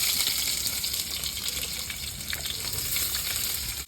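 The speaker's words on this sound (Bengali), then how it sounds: "পেঁয়াজগুলো একটু হালকা ভাজি নেবো" Thickly cut onions fry lightly in a pan, a close, continuous bright sizzle with faint stirring scrapes underneath, steady throughout and free of speech.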